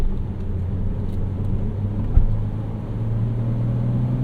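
A 2011 Porsche Cayman 987.2 Base with a six-speed manual drives at low revs while its engine warms up, giving a steady, low cabin rumble with a faint hum and a single soft thump partway through.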